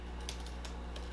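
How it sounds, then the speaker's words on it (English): Typing on a computer keyboard, heard as a few quiet, scattered key clicks at close range over a low steady hum. "I'm just typing it to you now."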